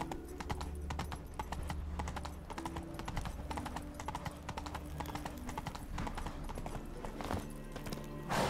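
Horse hooves clip-clopping in The Witcher 3 as the horse is ridden through a town, a rapid, even run of hoof beats over a steady bed of game music and ambience.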